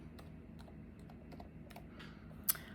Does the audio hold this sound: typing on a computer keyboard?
yes